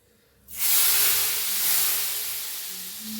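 Hot tempering with red chilli powder poured into simmering kadhi bursts into a loud, close hiss and sizzle that swells suddenly, then slowly settles into a steady frying crackle.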